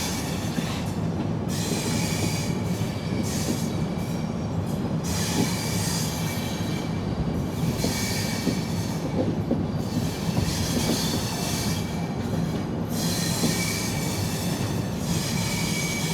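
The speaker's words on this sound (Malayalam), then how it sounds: "അപ്പം നമ്മളങ്ങനെ ഭാരതപ്പുഴയ്ക്ക് കുറുകെയുള്ള പാലത്തിലേക്ക് കയറുകയാണ്" The 12284 Duronto Express rolling onto the railway bridge over the Bharathapuzha river, heard from inside an AC 3-tier coach: a loud, continuous rumble of wheels on rails with intermittent high metallic squeals throughout.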